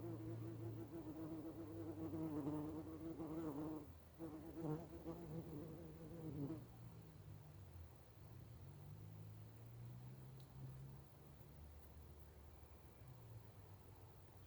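Honeybees buzzing around an opened hive during a varroa treatment and feeding check, a dense steady drone with wavering tones that is loudest early on, then settles into a softer hum.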